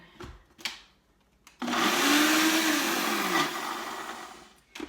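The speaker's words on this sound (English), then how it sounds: "I'm gonna put it in my, my little bullet blender here" A small bullet blender blending raspberry vinaigrette with thick honey whirs loudly for about two seconds with a rising motor whine, preceded and followed by a few soft clicks and knocks.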